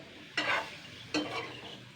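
Raw mango pieces sizzle in a hot pan while being cooked for mango candy, two loud bursts of frying as the pieces are stirred, each fading into a steady crackle.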